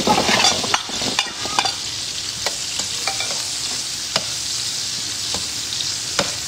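Garlic and onion fry with milkfish in a hot pan. The sizzle is close and continuous, broken by sharp clicks and scrapes of stirring. No one talks.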